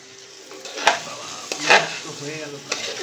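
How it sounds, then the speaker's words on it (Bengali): Spice masala fried in a pan for a hilsa fish dish, with a soft sizzle and several sharp spatula scrapes and clanks against the pan, close and moderately loud. "মশলাটা কষাচ্ছি"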